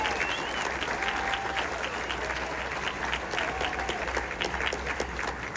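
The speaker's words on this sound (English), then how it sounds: "Please give them all a big round of applause." Warm, steady applause from a large crowd at a hockey tournament opening ceremony in Kelowna, filling the arena continuously as the teams are welcomed, with some faint background voices.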